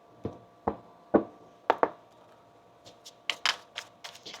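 Tarot cards being shuffled: a series of sharp taps and knocks followed by quicker, lighter card flicks, close and quiet with no voices.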